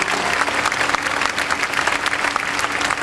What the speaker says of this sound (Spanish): El aplauso para mis compañeros,